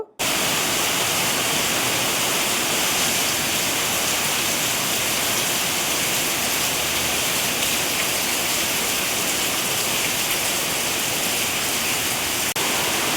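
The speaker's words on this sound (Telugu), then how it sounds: "బయట భయంకరంగా వర్షం పడుతూ ఉందండి" Heavy rain pours down outside in the dark early morning during a spell of flooding, a dense, steady hiss of water filling the whole scene evenly from start to finish with no voices.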